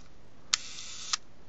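A Copal leaf shutter on an Olympus Chrome Six folding bellows camera, recently cleaned and oiled, fires: two crisp, quiet mechanical clicks about half a second apart with a faint whir between them, heard alone.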